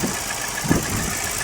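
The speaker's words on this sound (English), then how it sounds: "This is an unbelievably smooth engine." A Peugeot 505 STX with a 90-degree odd-firing V6 idles smoothly at close range, a steady low engine hum with a faint rhythmic pulse and no talk.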